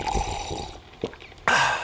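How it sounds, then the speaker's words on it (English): A sip of morning coffee in an advert sound effect: close wet slurps and drips, a short gulp, then a brighter liquid splash, with no talking. "That's not just the sound of that first sip of Morning Joe."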